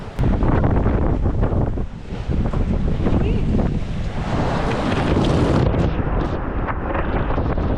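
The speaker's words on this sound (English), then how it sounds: "As I'm filming the waves here, you'll see a big one suddenly hit the side of the boat" Waves crash and slosh against the side of a sailboat at sea amid heavy, constant wind roar, with one big surge building midway.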